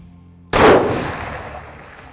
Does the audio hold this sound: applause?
no